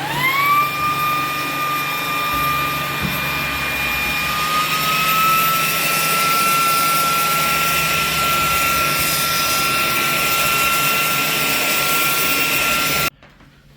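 A Ryobi 18V stick vacuum, model PBLSV717, runs loud and close with a steady high motor whine as it sucks up Christmas tree needles, then cuts off abruptly near the end.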